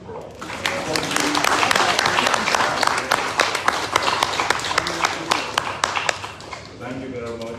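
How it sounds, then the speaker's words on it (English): An audience at a signing ceremony for a works contract claps in a steady round of applause while people talk over it. "I think the bank deserves a round of applause."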